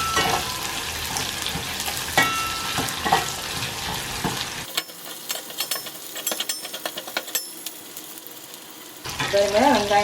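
Onions frying in oil until golden for a red spinach sambar, with a busy sizzle and stirring scrapes that thin to sparse crackles midway before the fuller frying sound returns.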